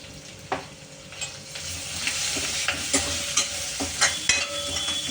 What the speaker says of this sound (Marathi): आता हे आपलं चांगलं फ्राय झालेलं आहे